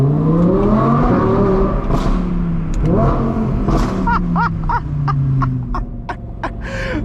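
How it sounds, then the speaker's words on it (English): An Audi R8 Performance V10 revs in repeated rising and falling sweeps while being driven in winter, loud and close. Sharp throttle blips and crackles follow toward the end. "when you hear that V10, guys, it makes it worth it"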